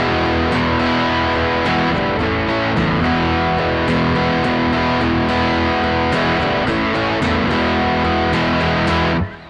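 Distorted electric guitar strummed steadily in a driving rhythm, with sharp regular attacks, loud and continuous until it cuts off at the end.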